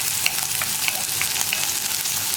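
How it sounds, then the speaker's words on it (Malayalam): Chopped onions sizzle steadily in hot oil with potatoes, a continuous bright frying hiss broken by soft scraping clicks as a spoon stirs the pan, close and unbroken with no voices. "ഇനി സവോള ഒന്ന് കളർ മാറി വരുന്നത് വരെ ഇളക്കി കൊടുക്കുക."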